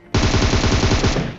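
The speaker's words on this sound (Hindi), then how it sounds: "अब सामने वाले से भी जगह से आ रहा था फायर" Rapid automatic gunfire in a shooter video game, one loud sustained burst of closely spaced shots lasting about a second, close and dominant with no voices.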